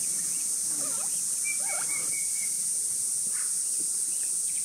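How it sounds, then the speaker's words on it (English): Cicadas buzz in the Arizona heat: a steady, high, unbroken drone that holds at an even level throughout, with faint scattered chirps and calls in the background. "So all day, we heard this buzzing sound."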